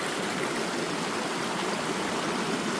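A foamy mountain stream at Hell Hollow on the Appalachian Trail in North Carolina flows with a steady, dense rushing and splashing, constant and close, with no voices over it.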